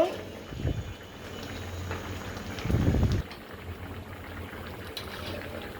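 Koi fish simmering in a fried spice paste for bhuna gives a steady low sizzle and bubbling, with a louder burst of frying near the start and another about halfway through.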